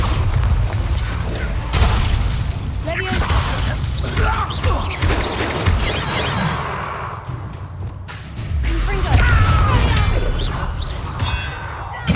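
Bombarda blast spell in Hogwarts Legacy, a loud sustained rumble with repeated booming, clanging and crashing impacts over roughly twelve seconds, with brief spell shouts mixed in.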